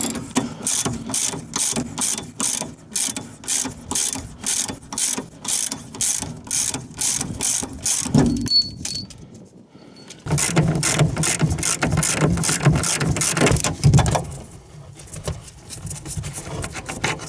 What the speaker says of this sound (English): We're gonna start taking off this first bolt, 14 millimeter, and then we'll go up to the top too.